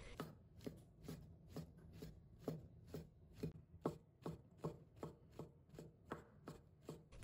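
A kitchen knife chops shiitake mushrooms into small dice on a cutting board, with steady, evenly spaced blade strikes repeating about twice a second, close and fairly quiet, with no talking.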